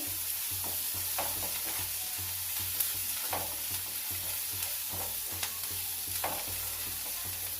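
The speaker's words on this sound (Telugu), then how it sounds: "కరివేపాకు, కొత్తిమీర వేస్తున్నానండి. ఇవన్నీ కొంచెం క్రిస్పీగా అయితే వేగిన తర్వాత చాలా బాగుంటుందండి." Curry leaves and coriander crackle and sizzle steadily in hot oil for sago upma, with a continuous frying hiss broken by repeated nearby scrapes and clicks of stirring.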